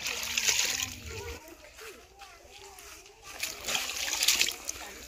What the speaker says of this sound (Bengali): এখানে যে পানগুলো এগুলো একদম ফ্রেশভাবে 4-5 বার এই পানগুলো ধোয়া হয় ফ্রেশভাবে